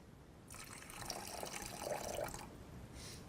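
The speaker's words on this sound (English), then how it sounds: "if I take this particular bottle of water and I pour some water here" Water poured from a bottle, a faint, steady splashing trickle lasting about two seconds that begins and stops cleanly in a quiet room.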